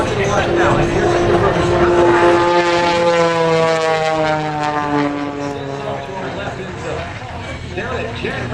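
A propeller aerobatic airplane performs inverted maneuvers at the Great Florida Air Show 2021 in Melbourne. Its loud, steady engine drone shifts in pitch as it passes, with an announcer talking over it throughout.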